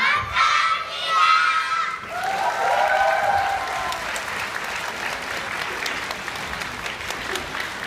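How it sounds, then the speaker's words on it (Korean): An audience claps loudly at a children's recital, dense applause mixed with children's shouts and cheers that swells over the first few seconds and then settles into a steadier, thinning patter. "다시 한번 칭찬의 박수 크게 한번 들려주세요"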